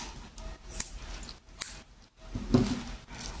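Scissors for crocheting a simple headband are handled and snipped, giving a few faint metallic clicks and a fuller snip near the end against a quiet room, with no voices.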